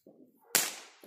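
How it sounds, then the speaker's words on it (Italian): A single loud, sharp Chinese firecracker bang goes off at close range and then rings out into a decaying tail, with a low background murmur before and after. "E questo è dei cinesi, vedi, i cinesi fanno gli spari curti"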